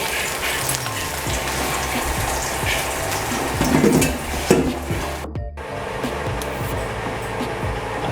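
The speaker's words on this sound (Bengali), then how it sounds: "আর একটা মাছ ভাজা চলছে, লেজা পিস আছে," A tail piece of rohu fish frying in a pan: continuous loud sizzle with scraping stirs and clatter near the end.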